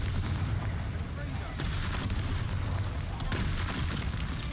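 Confringo fire spell blasts in Hogwarts Legacy, heavy booming bursts over a dense, continuous game soundscape, loud throughout with a voice talking over it.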